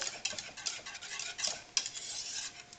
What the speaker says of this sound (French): dès que le feu est allumé, il faut remuer